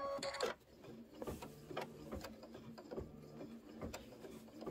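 An embroidery machine stitching a tack-down on a fabric trapunto pineapple pouch gives a faint, steady mechanical rattle with irregular ticks and knocks, heard alone.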